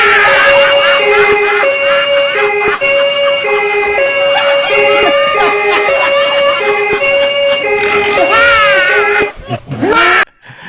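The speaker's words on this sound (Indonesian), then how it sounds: "Ada suara ambulans" Loud ambulance siren wailing in a steady two-tone pattern close by for most of the clip, then sweeping and breaking off near the end amid street noise.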